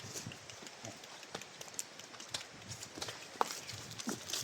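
Hooves of a horse climbing an uphill dirt path: a steady run of soft, irregular clip-clop footfalls, fairly distant and low in level, with no voices.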